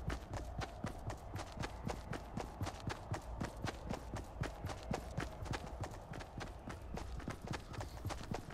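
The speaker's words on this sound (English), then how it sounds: "Why are our footsteps so loud" Rapid, loud footsteps of a player character in the Fortnite Battle Royale video game, a steady run of sharp thumps close up and continuing without pause, with no talking over them.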